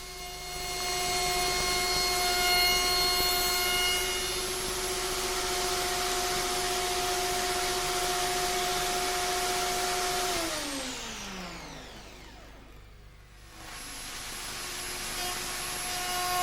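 A handheld wood router moulding a shaped top using a copy follower, a loud steady high-pitched whine with strong harmonics that runs down in pitch and fades as the motor is switched off near the end.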